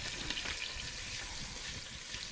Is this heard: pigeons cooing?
no